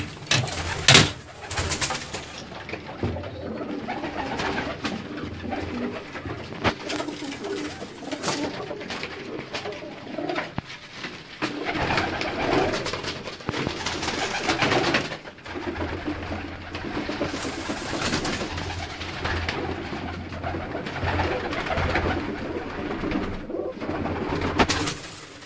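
Pigeons coo repeatedly in soft, throaty bursts, close by, over a rustling, busy background with occasional fluttering.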